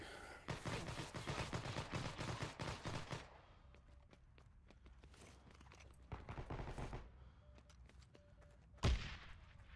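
Gunfire in the online shooter game Heroes & Generals comes in loud, rapid bursts separated by quieter gaps, ending with a single sharp, heavy shot.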